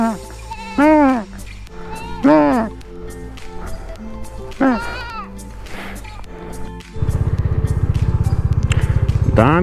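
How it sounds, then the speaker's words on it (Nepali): Several sheep bleat loudly nearby in a mountain setting, four or five wavering calls spread over the first seven seconds. A person talks between the calls, and a motorcycle engine then rumbles steadily close by to the end. "भेडा पनि रहेछ त्यहाँ"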